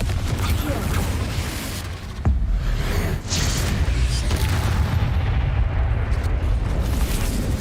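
A Confringo blast spell from Hogwarts Legacy goes off as a heavy, rumbling boom with a sharp crack near the middle, over a dense, continuous low roar of game ambience.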